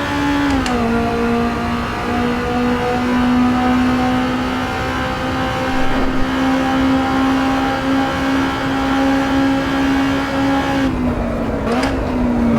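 A race car engine in the video game Assetto Corsa EVO holding a high, steady whine near 9,000 RPM, loud and continuous, dipping briefly near the end.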